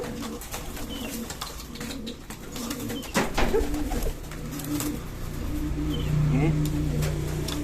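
Cooing of a kolong racing pigeon from Pekalongan, outdoors: soft, repeated low coos, moderately close, under steady ambient noise and some speech.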